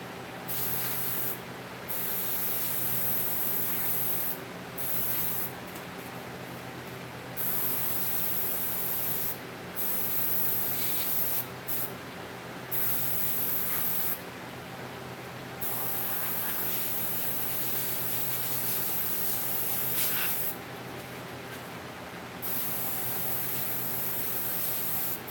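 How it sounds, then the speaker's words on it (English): An airbrush spraying paint onto a mask gives a steady close hiss that runs in repeated bursts, cut by brief pauses between strokes. "One of the things I always try and do with my airbrush is write my name."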